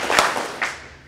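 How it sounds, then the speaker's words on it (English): An audience gives two sharp claps together, a loud burst followed by a second slightly softer one a moment later, each ringing briefly in a room after a talk on mental toughness. "Let's give Will two big claps here"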